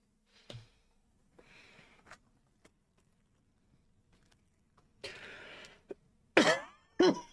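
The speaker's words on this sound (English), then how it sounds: "I'm so sorry about my cough." Someone coughs in a quiet room: a single cough early on, then scattered throat noises, and a burst of two harsh, close coughs near the end.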